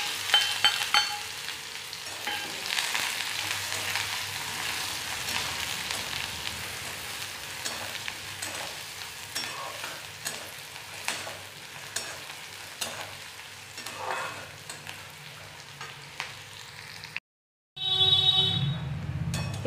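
Cumin seeds and chopped onion frying in hot oil, a loud continuous close sizzle with stirring scrapes, then a brief silent cut before a renewed burst of sizzling.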